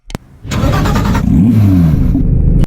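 A Porsche 911 Turbo S engine in a Roblox video game cranks and fires up, roaring loudly with a quick rev that settles into a strong, steady idle.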